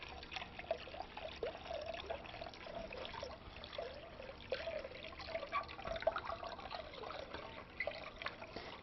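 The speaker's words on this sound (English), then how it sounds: "stir in 8 cups of water" Water being stirred into a pickling brine of vinegar and canning salt, a soft continuous trickling and sloshing of liquid with small gurgles, steady and fairly faint, no voices.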